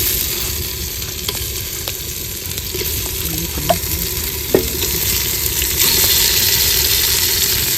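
Chicken frying in a clay pot over a village-style fire, a loud, dense, continuous sizzle with occasional faint clinks and scrapes of stirring, close and steady throughout with no talking.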